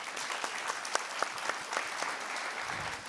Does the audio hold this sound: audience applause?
yes